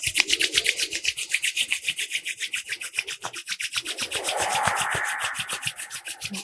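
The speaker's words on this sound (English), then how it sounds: "Bringing the palms together, rubbing our palms, generating some last heat from this practice." Palms rubbing briskly together near the microphone, a fast, steady back-and-forth swish repeating many times without pause, loud and dry with no voices over it.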